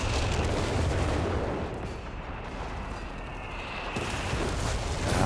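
Booming artillery fire from a base howitzer in Company of Heroes 3, a dense rumbling barrage of low blasts that stays loud and steady across the whole stretch, with no voices.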